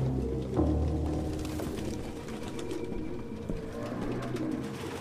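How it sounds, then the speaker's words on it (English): Pigeons coo in a cluttered apartment in the video game Detroit: Become Human, soft, low, repeated burbling calls layered over a steady background hum, close and continuous. "No human could live with all these fucking pigeons."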